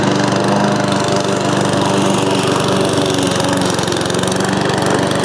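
An inexpensive Amazon Smartpower lawn mower churns through very wet, thick overgrown grass, its engine roaring close and continuous with a slight bogging strain.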